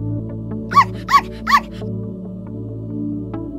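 A dog gives three quick, evenly spaced yipping barks as a sound effect, clear and fairly close over a low, steady musical hum.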